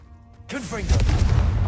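A Confringo fire-blast spell explodes in Hogwarts Legacy. A brief voiced cry comes first, then a loud, deep booming burst rumbles on for about a second.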